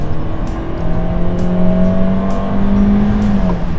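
A car with a sequential CVT driven through its pedal shifter, the engine droning loud and close as its pitch climbs slowly and steadily in a long second gear, with no talk.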